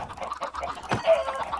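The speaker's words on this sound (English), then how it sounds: "Sorry, baby chicken." A baby chicken in the Minecraft video game gives short soft clucks, a few quick chirpy calls close by with a brief click amid them, no talking.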